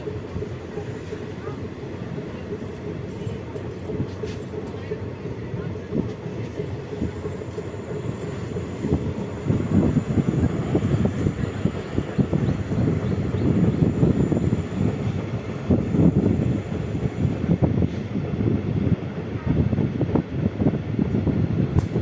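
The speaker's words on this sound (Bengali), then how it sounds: "ট্রেন এই রেলপথে খুব বেশি জোরে দৌড়য় না" A passenger train runs slowly along a forest railway between New Mal Junction and Hasimara, through an elephant corridor. A steady, close rumble and rattle of wheels grows noticeably louder about halfway through.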